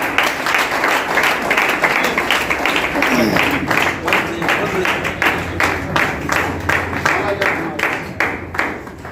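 A crowd claps rhythmically in unison at a Safe Shop event in Bhadohi, with steady beats that grow more distinct toward the end, and a voice speaking over the start.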